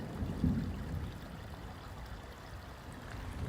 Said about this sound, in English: I think a little waterfall.